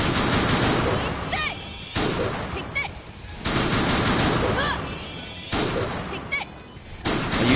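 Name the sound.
gun spell firing in Death end re;Quest, video game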